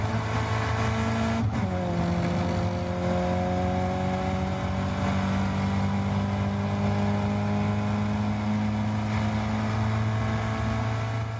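Caterham race cars run on the Donington Park circuit, their engines droning loudly and steadily with a sustained revving tone and a brief shift in pitch near the start, no voices present.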